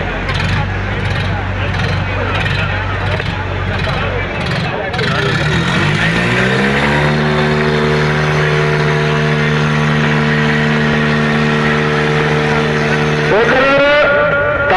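Tractor engines roar and rev hard during a rural tractor tug-of-war contest in Puranpur, Uttar Pradesh. The pitch climbs and holds at a strained drone, then surges again near the end over a noisy crowd.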